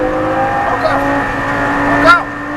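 A Lamborghini Gallardo LP560 accelerates at full throttle on a race circuit, its engine drone steady and close, ending in a rising whine and a brief tyre-like squeal.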